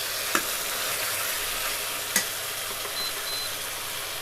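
Chicken rogan josh sizzles steadily in a pan, a constant frying hiss with two brief sharp scrapes from stirring, one near the start and one midway.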